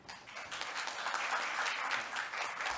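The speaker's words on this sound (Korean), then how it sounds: "다시 한번 큰 박수 부탁드립니다." Audience applause at a sustainability forum on Jeju's international free city, a dense, steady wash of many hands clapping throughout, moderately distant and without any voices.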